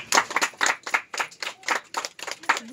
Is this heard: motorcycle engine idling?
no